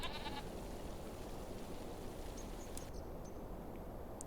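Goats in a big barn in the video game Farming Simulator 25 bleat repeatedly over a steady background of farm ambience, with several short calls rising above a constant low noise.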